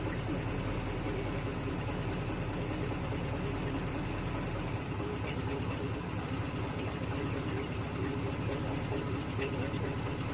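A Ford F100 truck engine idles steadily after a carburetor tune, a continuous low rumble with a slightly fast idle, heard up close throughout with a faint shift in tone midway.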